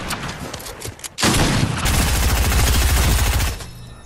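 A Draco pistol fires in rapid bursts, loud and close: a short opening volley, then a sustained stream of gunfire that ends abruptly, with no talking.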